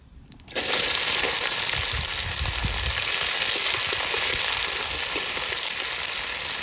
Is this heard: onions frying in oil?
yes